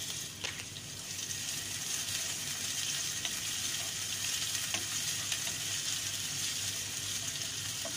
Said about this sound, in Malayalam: എന്നിട്ട് നമുക്ക് സവാള നല്ലോണം ഒന്ന് വഴറ്റി എടുക്കാം